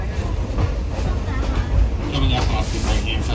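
Passenger train riding the railroad near Lincoln, New Hampshire, a loud close rumble with rhythmic wheel clatter and rattling cars, with people talking over it.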